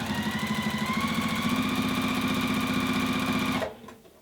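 A sewing machine runs at a fast, steady stitching rhythm during free motion quilting, a continuous mechanical whir with a busy repeating clatter that stops abruptly near the end.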